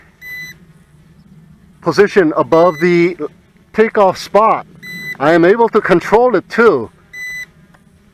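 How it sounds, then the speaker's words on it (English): A BAYANGTOYS X28 FPV drone emits faint, steady repeated beeps while hovering above its takeoff spot after returning home, mostly beneath a man's close, continuous talking. "and it is still beeping away"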